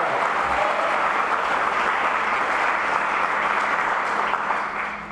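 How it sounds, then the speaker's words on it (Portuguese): Church congregation applauding during a sermon, a dense, sustained wash of clapping from many hands that fades slightly at the end. "alguém aplauda a Cristo, o ressurreto"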